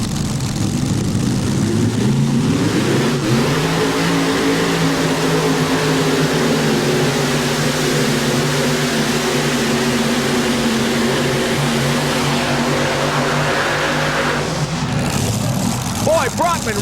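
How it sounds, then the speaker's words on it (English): A modified pulling tractor roars through a run at a 1994 USHRA tractor pull in Chapel Hill, a loud, sustained engine howl with rising pitch that cuts off sharply near the end, with talk over it. "the tractor shook violently, but it was an outstanding run for Brockman"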